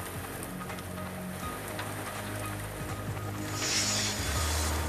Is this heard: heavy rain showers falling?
yes